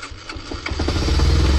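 A motorcycle on a frozen morning at Pangong Lake cranks with a few uneven sputters and then catches, settling into a steady, close engine idle that holds to the end.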